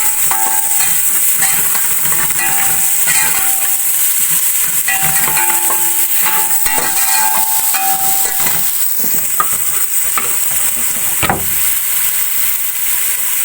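Garlic frying in a pan gives a steady, loud hiss and sizzle throughout, with faint tonal hums and a few clicks in the background and no talking.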